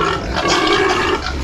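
Piglets grunt and squeal together during feeding, a close, continuous, rough snuffling burst with no pause.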